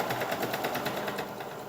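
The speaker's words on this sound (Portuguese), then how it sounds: "Vou costurar até onde dá" A sewing machine runs steadily, stitching the waistband of a Sevilla-style skirt with a fast, even mechanical chatter heard close up and alone.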